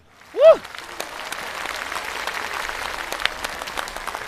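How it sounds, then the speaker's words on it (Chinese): Audience applause at a live stand-up comedy show, a dense wash of clapping that rises after a brief vocal sound at the start and continues steadily from a crowd. "想换工作的请鼓鼓掌。"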